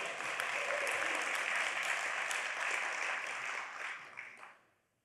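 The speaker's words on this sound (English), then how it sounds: "come on, you can clap better than that" Audience applause at the Santa Monica State of the City event, a room of people clapping steadily and fairly quietly before fading out over the last second.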